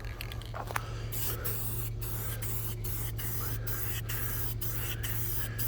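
Targets are coated with spray paint from an aerosol can: a steady, close hiss runs through the whole stretch, broken by brief, regular pauses.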